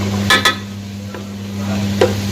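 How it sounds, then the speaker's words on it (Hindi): Tomatoes go into browned onions frying in a pan, bringing a few quick stirring scrapes and clinks over a low, steady sizzle and an electrical hum, close by with nobody talking. "प्याज हो गए हैं मेरे ब्राउन। अब इसमें मैं टमाटर डाल देती हूँ।"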